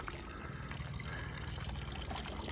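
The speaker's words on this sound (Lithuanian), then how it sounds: "galima surasti ir tokį dalyką kaip vandens čiaupą su grynu vandenėliu" Water runs steadily from a public drinking-water tap on a city street in Zurich, a continuous trickling pour at moderate distance with faint outdoor background, no talk.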